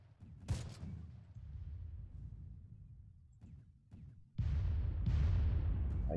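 Gunfire in the World War II strategy game Close Combat: sharp shots cracking over distant rumbling, then heavy sustained firing and explosions building loud toward the end.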